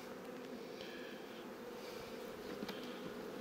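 Honeybees buzz steadily inside an opened hive during a spring inspection, a dense, continuous hum close by with a few brief louder passes of individual bees.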